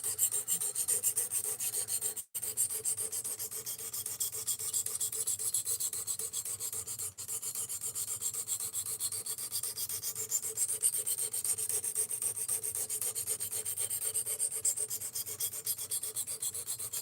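A knife is sharpened on a Work Sharp RMX sharpener, producing a continuous, close, raspy scraping that runs for a long stretch with two brief breaks and no talking.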